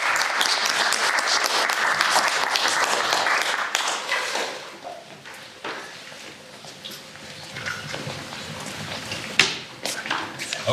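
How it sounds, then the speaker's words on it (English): Audience applause for the speaker Tambet at the Saimaa Film Festival, dense clapping that thins out after a few seconds into scattered claps and light room noise. "Let's give a round of applause."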